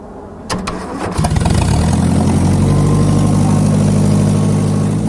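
A scrapheap-built fireboat's pump engine catches and runs, a few sharp clattering turns giving way to a loud, steady, fast-running drone with a strong low throb.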